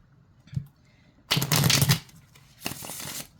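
Tarot cards being shuffled, heard as two bursts of crisp riffling close by, the first longer than the second, with a soft tap just before them.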